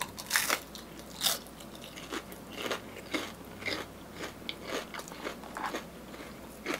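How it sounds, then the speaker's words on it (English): Repeated crisp bites and crunching of a Red Robin onion ring, close and fairly loud, arriving in irregular bursts with chewing between them and no talking. "Alone, it's more of the texture and the crunch, the sweetness of the onion."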